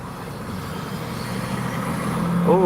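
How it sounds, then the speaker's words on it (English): Busy road traffic rumbles past in a continuous, fairly loud wash of engine and tyre noise that builds slightly toward the end, with a brief tonal squeal near the close. "Man, there's a lot of traffic today."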